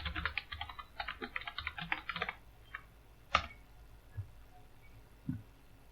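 Rapid typing on a computer keyboard while entering a command: a quick burst of close, crisp key clicks for about two seconds, then a sharp key press and a few scattered taps in a quiet room.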